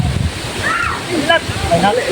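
Rain falls as a steady wet hiss under close, continuous talking.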